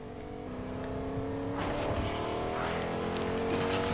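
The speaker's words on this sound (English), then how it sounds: "I hear a car." A vehicle in the Fortnite video game drives nearby, its engine drone growing louder and rising in pitch as it approaches and accelerates, set against in-game ambience.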